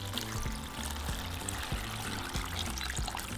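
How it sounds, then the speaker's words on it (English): Water pours steadily over rinsed dried chile pods in a pot, a continuous close splashing stream with no talking. "now we're going to cover them with water."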